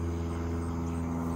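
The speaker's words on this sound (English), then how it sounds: "Where's that plane?" An airplane passes low overhead on a morning garden walk, a steady droning engine rumble that stays loud and constant throughout with no talking.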